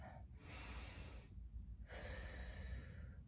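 Two slow, deep breaths taken during a yoga hamstring and calf stretch, a long airy inhale then a pause before another long breathy exhale, close and soft with nothing else heard.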